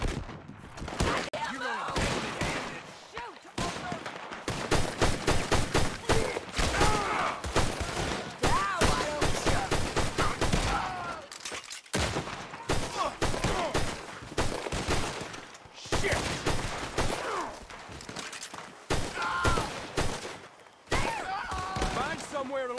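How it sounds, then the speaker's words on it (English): Frantic gunfire in a Red Dead Redemption 2 shootout, dense bursts of rapid shots and rifle cracks rattling almost nonstop for over twenty seconds, with brief pauses and game voices mixed in. "You're gonna shoot, Arthur."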